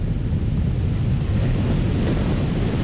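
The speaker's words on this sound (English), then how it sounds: "This might be the strongest gust we've gotten so far. I mean, everything is blowing around." Strong storm wind gusts at Jacksonville Beach roar steadily and loudly across the microphone, a constant dense rush with surf underneath and no voices.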